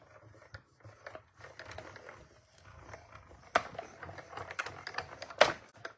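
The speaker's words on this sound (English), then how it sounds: "we're going to just die cut that" A die cut machine presses a die through paper to cut a card mask, making faint, irregular clicks and ratcheting rattles with a few sharper snaps near the end.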